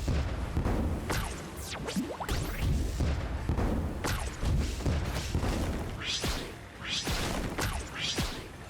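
Repeated cannon fire in the card battler Cross Blitz, with loud booms and whooshing sweeps arriving in a steady run of impacts that lasts throughout.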